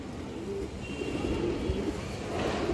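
Domestic pigeons coo close by in low, rolling throaty calls repeated through the stretch, over a soft background hum.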